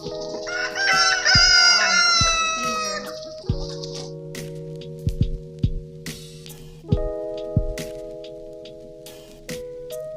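On a farm, chickens cluck and a rooster crows loudly near the start, and scattered hen calls and squawks follow over a steady background tone with occasional sharp knocks and no talking.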